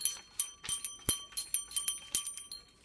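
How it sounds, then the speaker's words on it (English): A small bell ornament is shaken in a string of bright, tinkling jingles, about a dozen quick rings in uneven rhythm, close and clear with no talking. "Shake your bell, baby. Shake it."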